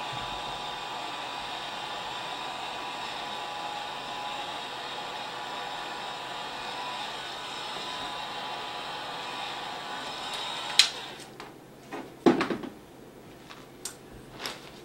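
A heat tool blows steadily on an encaustic wax picture, a constant hissing whoosh of hot air that cuts off near the end, followed by a few sharp knocks and clicks of handling.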